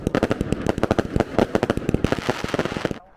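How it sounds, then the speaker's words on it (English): Fireworks pop and crackle nonstop at an outdoor fireworks show, a loud, dense run of sharp bangs that cuts off abruptly near the end. "We're here, fireworks show today"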